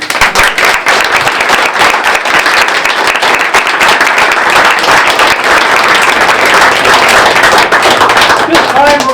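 Loud, sustained applause from an audience at a historical society picnic honoring essay contest winners, with dense clapping filling the whole stretch and voices mixed in.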